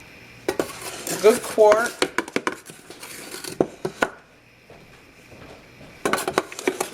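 Pancake mix is scooped into a jar, with scraping and clinking of a utensil against glass in irregular knocks and rattles. A brief voice speaks near the start.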